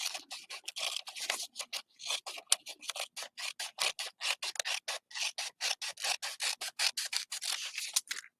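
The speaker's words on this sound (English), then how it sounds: "These are my favorite fussy cutting scissors too." Small fussy-cutting scissors snip through paper in quick, regular strokes, about two to three crisp cuts per second, close and fairly quiet, with no talking.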